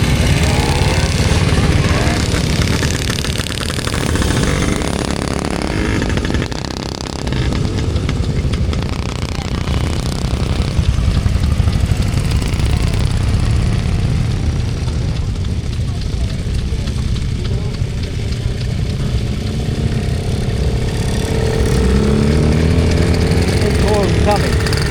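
BSA Bantam motorcycles run at the Weald of Kent show, their engines making a continuous loud, close drone throughout, with voices talking over the noise.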